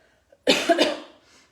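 A single close, sharp cough bursts out after a brief quiet moment, then trails off into a soft breath.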